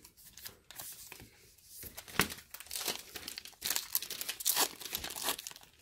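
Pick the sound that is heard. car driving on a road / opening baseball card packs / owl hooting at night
opening baseball card packs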